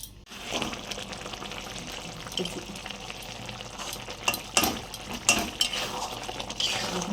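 Bombay duck (lote) fish being sautéed and stirred in a pan for a village-style Bengali dish: close frying sizzle with repeated spatula scrapes and clinks against the metal pan, no voices.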